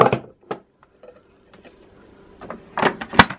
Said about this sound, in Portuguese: Aí agora vamos colocar o bol aqui na máquina.